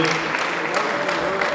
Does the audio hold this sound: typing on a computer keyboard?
no